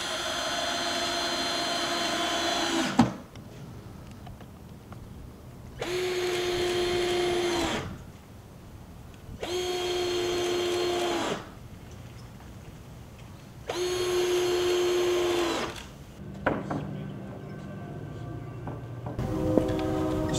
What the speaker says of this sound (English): using the rest of that 4x8 sheet of plywood, we just cut the length of it, 27 inches by 69 inches